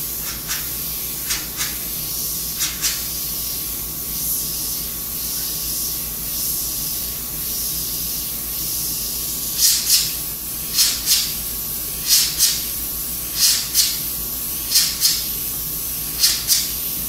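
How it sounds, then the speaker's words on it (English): Airbrush spraying Candy 2O black paint, a soft continuous hiss of air with short louder bursts of spray in quick pairs, especially in the second half, close and fairly quiet. "I'm using the Candy 2O black because it's what it was already in the airbrush."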